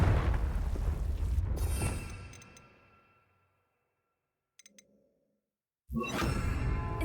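A Confringo spell explodes in Hogwarts Legacy as a loud, booming blast that fades over about three seconds into silence, followed by a couple of faint ticks and then another sudden burst of loud noise.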